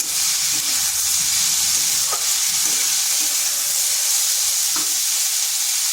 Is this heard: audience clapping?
no